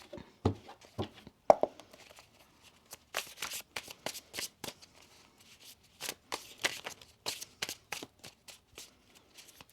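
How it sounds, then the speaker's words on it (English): Crisp riffling and slapping of tarot cards being shuffled, in repeated bursts with short pauses between, close and fairly quiet. "One more shuffle."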